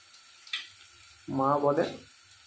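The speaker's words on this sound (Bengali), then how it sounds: "আদাটা দিয়ে বেশিক্ষণ আমরা ভাজবো না" Ginger added to garlic frying in a pan sizzles softly and steadily in the background. A brief voice rises over it midway.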